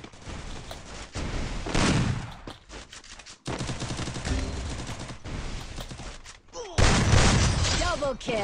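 Rapid bursts of shotgun fire in a video game shooter match, loud, close and repeated in clusters, with a player talking excitedly over the shots.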